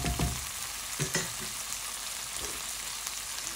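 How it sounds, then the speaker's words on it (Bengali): Ground spices sautéing with browned fried onions in a pan: a steady, close sizzle with a few spatula scrapes and taps as the mixture is stirred. "তা আমার মশলাটা কষানো হয়ে গেছে,"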